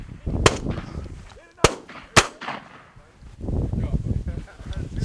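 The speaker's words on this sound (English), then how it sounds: "Good shot." Shotgun blasts during an upland bird hunt: three sharp, loud reports in quick succession, the last two close together, followed by outdoor rustling and faint voices.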